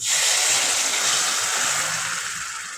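Water pours into a brinjal curry in a pan with a steady, close hiss and splash that gradually eases off over a few seconds.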